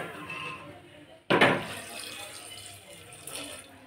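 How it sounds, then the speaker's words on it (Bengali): Water is poured into a pressure cooker holding soaked peas, a sudden gushing splash that swells loudly then settles into a softer steady trickle, close by, with a voice faintly audible. "প্রথমে কুকারে দিয়ে এটা আমি সেদ্ধ করে নেব। কতটা জল দিচ্ছি সেটাও দেখো।"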